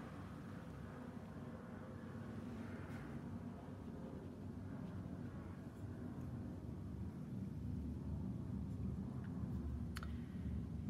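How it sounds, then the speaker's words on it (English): A passing plane makes a faint, steady low rumble that swells slightly over about ten seconds, heard indoors with no talking. "If you heard that rumble, that was a plane going past."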